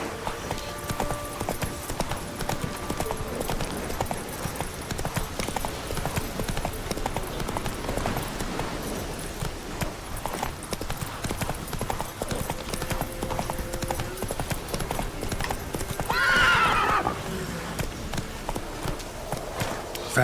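Horse hooves in The Witcher 3 clip-clop in a quick, continuous galloping rhythm, with a short whinny near the end; a voice urges the horse on over the pounding steps.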